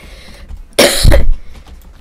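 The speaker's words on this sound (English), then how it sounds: "I just have this cough, which makes everything funny." A single harsh, close cough bursts out and lasts about half a second, loud against a quiet room background.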